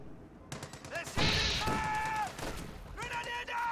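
Rapid rifle fire from G43 semi-automatic rifles in a World War II strategy game, a burst of sharp close shots cracking over other battle noise, with a voice talking over parts of it.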